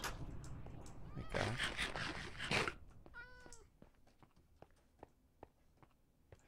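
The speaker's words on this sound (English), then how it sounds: "I think the cats want to be let inside now." Cats meowing to be let inside, several distinct meows with rising and falling pitch following a burst of louder noise, then quieter tapping sounds.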